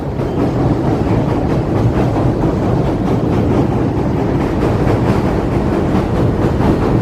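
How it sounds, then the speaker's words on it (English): A loud, steady rumble of a Chicago elevated Green Line train running on rails, with a continuous roar and faint rhythmic clatter throughout. "I hear it coming. I hear that train coming."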